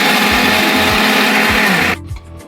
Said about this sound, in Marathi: आता आपण बारीक करून घेणार आहोत हे बॅटर